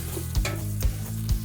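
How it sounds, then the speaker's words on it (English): A tablespoon of butter melting into a small amount of vegetable oil in a large sauce pot gives a low, steady sizzle, broken by three short scraping stir strokes spaced about half a second apart. "in a large sauce pot, I put a very small amount of vegetable oil, about 1 ounce, to which I'm gonna add about a tablespoon of butter"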